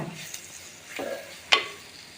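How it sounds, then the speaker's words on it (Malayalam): Tomato pieces for a sardine curry sauté in a pan with a low sizzle, a couple of spatula scrapes and a sharp metallic clink near the end, close and fairly quiet. "ചെറുതായിട്ടൊന്ന് വഴറ്റിയെടുക്കാം."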